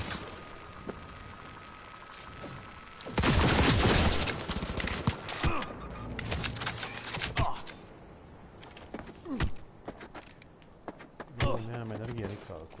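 Bursts of rapid automatic gunfire and explosions in the video game Cyberpunk 2077, loud volleys followed by scattered single shots and impacts, with a player talking at times.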